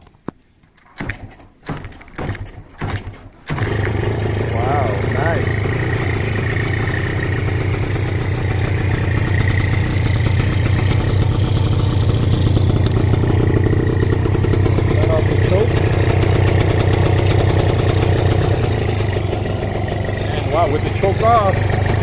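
A two-stroke Yamaha 150cc motorcycle with a homemade twin stinger exhaust starts after a few brief cranks, then idles at a steady, fairly loud, even burble for about twenty seconds.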